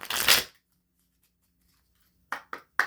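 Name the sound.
shuffling cards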